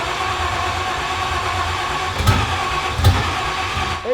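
An LS-swapped car engine built with Temu parts cranks and briefly coughs twice without catching, two short rough bursts over a steady low rumble.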